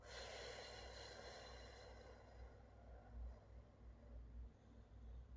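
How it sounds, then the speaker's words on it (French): Slow, deep breaths in and out during a guided relaxation, soft and close with a steady airy hiss that rises and falls, no voice over it. "Vous prenez une bonne inspiration et vous soufflez lentement."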